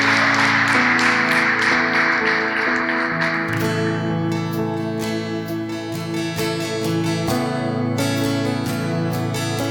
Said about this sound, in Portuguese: Se você tem motivos para agradecer a Ele, você pode aplaudir ao Rei Jesus.